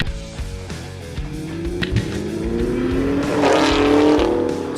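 A Camaro ZL1 with an AWE Touring catback exhaust revs hard and loud, its engine note climbing steadily in pitch and growing louder over several seconds, with no talking.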